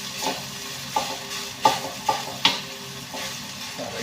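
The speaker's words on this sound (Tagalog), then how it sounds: "Sasangag natin." Close, steady sizzle of rice being stir-fried into sinangag in a pan, with a spatula scraping and tapping against the pan several times.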